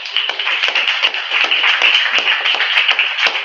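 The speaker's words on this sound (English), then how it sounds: "Can we clap for the homie real quick?" An open mic audience applauds a performer with a lively, continuous burst of clapping from many hands, fairly close and loud throughout.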